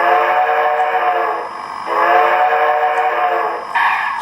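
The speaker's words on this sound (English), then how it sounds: "You blow the whistle twice." Whistle of an O scale Southern Pacific AC-12 model steam locomotive sounds twice, each a loud, steady chime-like blast of about two seconds, with no talking.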